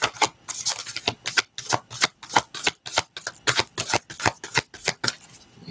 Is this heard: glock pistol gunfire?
no